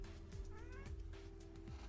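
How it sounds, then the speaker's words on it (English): A black cat meows softly at close range in a quiet indoor room, a short rising cry with a steady low hum running underneath. "You can come sit. You're a black cat."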